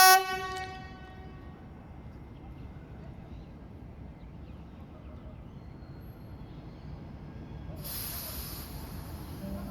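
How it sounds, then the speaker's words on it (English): A passenger train horn sounds briefly at the start, followed by a low rumbling train departing with a steady hiss building later. "The first Mariang train in passenger service is about to depart."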